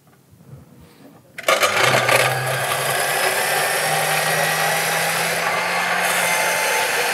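Carrots being finely sliced by a stand mixer slicing attachment: after a brief click of setup, the motor starts with a sharp whine and runs steadily, with chopping rattles from the blade, close and loud.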